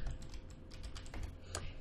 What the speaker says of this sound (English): we're gonna press G on my keyboard